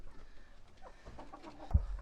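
Hens in a chicken coop on a farm cluck softly in short, scattered calls, faint and close, with one louder thump near the end.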